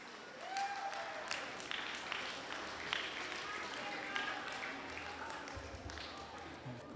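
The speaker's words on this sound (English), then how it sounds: "please give a round of applause for Kayla Rungunbuth" Outdoor crowd applause for a canoe race winner at a traditional canoe festival on Yap, scattered clapping and cheering heard at moderate distance with voices talking throughout.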